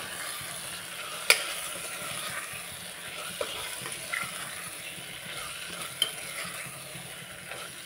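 Garam masala being stirred into a frying baby jackfruit biryani base in a pan, with a steady soft sizzle and scraping of a spoon, sharp clinks against the pan at a few moments, close by and without talk.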